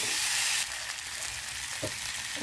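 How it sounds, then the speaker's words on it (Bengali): Pieces of taro and potato fry in hot spiced oil in a pan, giving a steady, bright sizzle with a few soft stirring knocks. No voices are heard. "আলু আর কচুটা দিয়ে দিই কচুটা কষা হচ্ছে"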